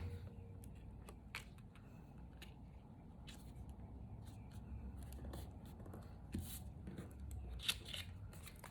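Scissors snipping paper trim pieces for a memory box, with faint, close, irregular cuts and small paper rustles at a low level.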